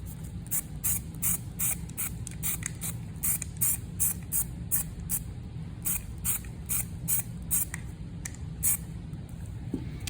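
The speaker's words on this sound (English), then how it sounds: "I'm going to grab a black can of paint and spray that in." A spray can of black paint hisses in repeated short bursts, rhythmic and fairly close, over a low steady background hum in a classroom.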